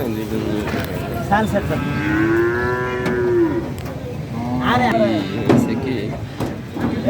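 Cattle and calves moo repeatedly at a weekly cattle market, with several long, loud lowing calls from nearby animals rising over a busy background of crowd chatter and market noise.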